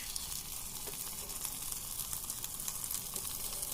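A boiled egg omelette fries in a pan over a medium flame, giving a dense, even sizzle that stays close and constant throughout.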